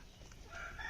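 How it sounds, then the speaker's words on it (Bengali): Poultry on a farm where hens roost and lay eggs: a brief rooster crow or cluck, fairly close and alone, rising toward the end of the moment with no talk. "এই যে একটি মোরগ।"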